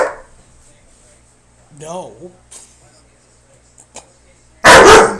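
A dog in a home gives one sharp, loud bark near the end, preceded by quiet whimpering and a few small vocal noises, with a person speaking briefly.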